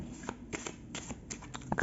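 Tarot cards being shuffled by hand in a quiet room, a series of short papery riffles and flicks that grow louder and denser toward the end, with no talk.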